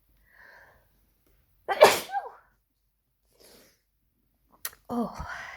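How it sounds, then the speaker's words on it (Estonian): A single sharp, close human sneeze bursts out of an otherwise quiet room, with a short inhale before it and a few faint breaths and small noises afterward. "Nii, ja ma kohe aevastan."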